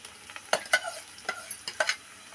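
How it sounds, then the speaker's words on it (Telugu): Ground masala, made from blended toor dal, is poured into a sizzling tempering for majjiga salavacharu, giving a few soft, close bursts of sizzle and stirring scrapes spread across a short stretch with no talk. "ఇప్పుడు మిక్సీ చేసి పెట్టుకున్న మసాలా ఇప్పుడు ఈ తాలింపులో పోసుకుందామండి"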